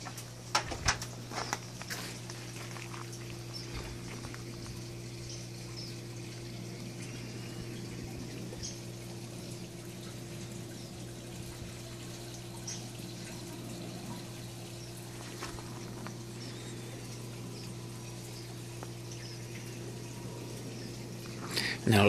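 Water running from small spigots in an aquaponic produce system fed from a sump tank, a continuous soft splashing trickle under a steady pump-like hum, with a few faint knocks near the start.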